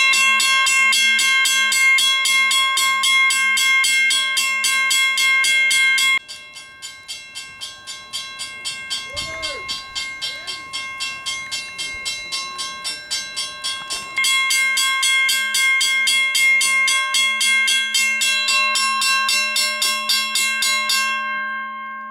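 A second-generation 0333 mechanical railroad crossing bell rings loudly and alone, rapid metallic strikes ringing continuously, pausing its full tone briefly mid-way before resuming at full strength.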